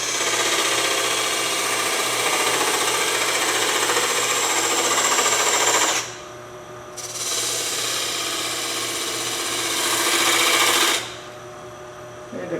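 A wood lathe spins a mushroom-shaped workpiece while the tool cuts, giving a steady loud whirring grind with two brief drops where cutting eases off, then resumes.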